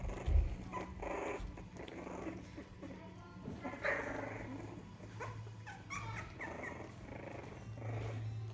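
A dog growls low and rumbling in a quiet indoor setting, in intermittent stretches with faint whimpery sounds between them.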